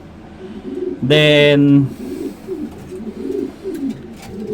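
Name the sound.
pigeons cooing in a pigeon loft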